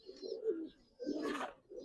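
Giribaz pigeons coo softly nearby in two short, throaty bursts, the second slightly fuller, with a faint chirp alongside and quiet gaps between.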